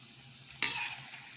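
Donuts frying and browning in a pan of oil: a soft background hiss, then a sudden sharp sizzle burst that trails off over a second.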